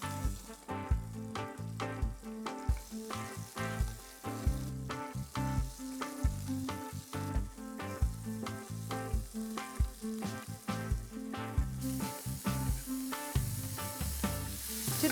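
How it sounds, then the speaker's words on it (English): Finely chopped onions sizzle in oil with spluttering cumin seeds for a chicken kheema filling. The frying is quiet and steady, with rhythmic crackles and stirring knocks throughout. "now to this I'm adding some finely chopped onions"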